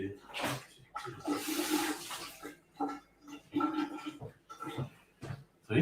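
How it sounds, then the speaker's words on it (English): A whiskey jigger rinsed under running water, with bursts of splashing and gushing broken up by someone talking over it. "Rinse the jigger."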